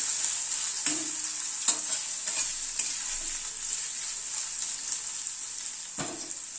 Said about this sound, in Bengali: আলুটাকে আগে একটুখানি ভেজে নিলাম, এই মিনিট খানেক একটু নাড়াচাড়া করে নিলাম।